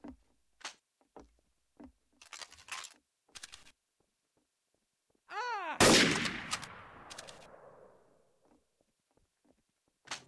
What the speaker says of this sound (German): Auf Avatar wurde geschossen.